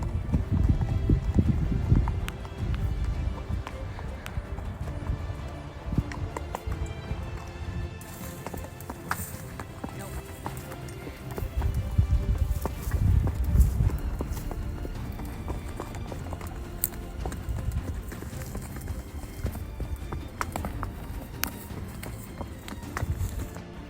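Horse hooves clip-clopping on a trail ride up to Firebrand Pass in Glacier National Park, a steady walking rhythm of close hoof falls on dirt and rock, with brushing and gear rustle around them.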